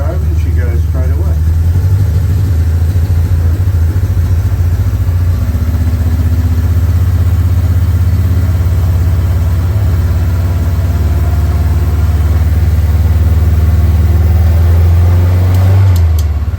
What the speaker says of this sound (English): So I put the jump starter on it, turn her over and she goes straight away.